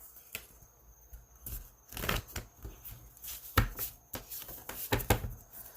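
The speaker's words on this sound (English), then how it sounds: "So let's get some angel cards. I'm done shuffling." Angel cards being shuffled by hand, a run of crisp riffling and flicking bursts that come and go over several seconds, close and fairly quiet with no talking.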